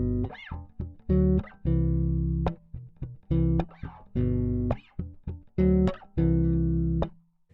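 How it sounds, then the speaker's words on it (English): A bass plays a 1-5-4 chord progression as a beginner lesson demo, sustained low notes in separate phrases over a simple drum backbeat, loud and close with no talking. "I'm just adding a backbeat in there, a little drum beat there, because it sounds more fun to me"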